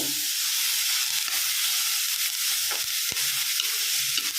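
Grated beetroot sautéing in a pan for beetroot chutney, a steady sizzling hiss with occasional stirring scrapes and small clicks, close and continuous with no talking.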